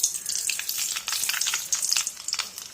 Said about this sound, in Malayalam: എണ്ണ ചൂടായിട്ടുണ്ട്. ഇതിലേക്ക് കടുകിട്ട് കൊടുക്കാം.